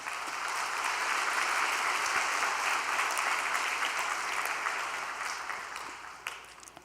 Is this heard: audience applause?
yes